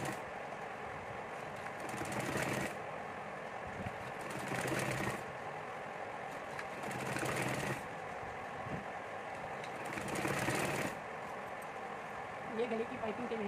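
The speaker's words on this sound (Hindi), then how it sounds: "फिर जल्दी से ऊपर से सिलाई लगा लेती हूँ" Short bursts of a sewing machine stitching the neck piping of a baby frock come and go in a regular rhythm, while someone talks over them throughout.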